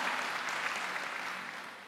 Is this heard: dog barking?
no